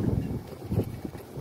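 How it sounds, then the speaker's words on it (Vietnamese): Strong, cold wind gusts outdoors and buffets the microphone, making loud, uneven low roaring surges that rise and fall every fraction of a second, with no speech. "Gió dữ lắm luôn. Gió ầm ầm ào ào."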